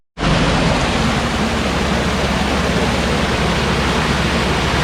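Water gushes hard and steadily through the leaking gates of a canal lock, a dense, continuous roar that starts abruptly and stays loud and close, with no voices.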